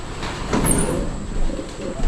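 Racing pigeons coo softly in low, rounded murmurs against a steady background hiss, a few overlapping calls close by.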